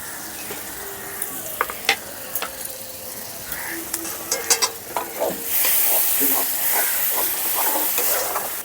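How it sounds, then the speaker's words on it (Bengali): Masala spices fry in oil for paneer with turmeric and salt, making a steady sizzle broken by sharp scraping and stirring knocks, then a louder, fuller hiss as the mixture hits the hot pan. "আবারও মশলাটাকে ভালো করে কষাতে হবে, যতক্ষণ না তেল ছেড়ে দিচ্ছে"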